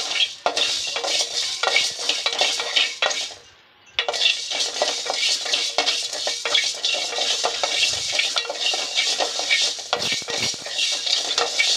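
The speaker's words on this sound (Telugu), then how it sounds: "ధనియాలు కూడా వేసుకొని బాగా ఫ్రై చేసుకోవాలండి." Coriander seeds frying and being stirred in a pan, a constant crackling rattle of seeds and scraping of a utensil against metal, briefly pausing once before resuming close and steady.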